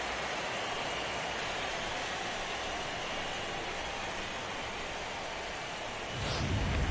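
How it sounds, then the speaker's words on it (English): Rain falls in a baseball video game, MLB The Show 17, as a steady, even wash of hiss with no voices, and a soft low rumble swells near the end. "and Dan, when it comes to pitching in the rain, what changes?"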